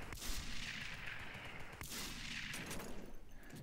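Faint gunfire from a Sauer M30 drilling in a video game: a few sharp shots spaced over several seconds, quiet and somewhat distant under steady background noise.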